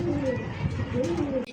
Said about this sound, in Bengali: একদম ইয়াং একটা কবুতর